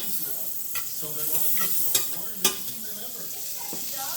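Onions sauté in butter in a pan with a close, continuous sizzle and a few sharp clinks of a utensil stirring them.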